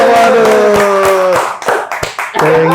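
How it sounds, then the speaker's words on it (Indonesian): A small audience claps at a podcast recording, with several sharp, close hand claps in an uneven rhythm under loud talking and a sustained tone. "Tepuk tangan dulu, tepuk tangan dulu."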